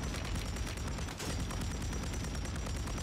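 Rapid automatic gunfire in Warzone, a dense continuous burst of shots from a Pulemyot 762 machine gun with barely any gaps, loud and constant throughout.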